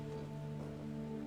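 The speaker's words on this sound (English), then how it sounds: "that's rain" Steady rain patters on a surface outside, a soft continuous wash with faint tonal hum beneath, holding evenly for a moment with no voices.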